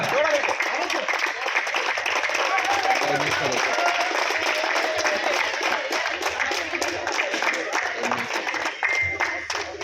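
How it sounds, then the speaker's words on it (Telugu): Audience applause at a Pongal quiz competition held by a youth and sports club: sustained, dense clapping from a crowd lasting throughout, with a voice speaking over it. "అందరూ ఒకసారి చప్పట్లు గట్టిగా"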